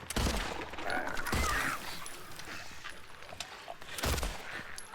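Gunfire in Silent Hill 2 Remake: a few distinct, fairly faint shots spaced seconds apart over a low, steady game ambience.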